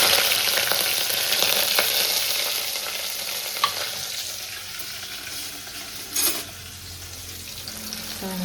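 Onion, chili and salt sizzle in mustard-seed tempering oil for a Gujarati kadhi, a steady close frying hiss with stirring scrapes and a few spoon knocks against the pan, gradually settling, and no talking.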